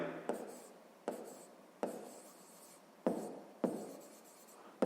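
Chalk or pen taps and scratches out an equation for a sixth-grade maths exercise in a quiet room, with about six sharp strokes each trailing into a short scraping tail.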